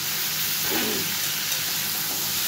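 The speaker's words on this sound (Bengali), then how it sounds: "পোস্ত আর কাঁচা লঙ্কা বাটা আমি এর মধ্যে ঢেলে দেবো" Poppy seed and green chili paste hits a hot pan of salted ridge gourd and potato, giving a steady close sizzle with a brief bubbling spurt near the start.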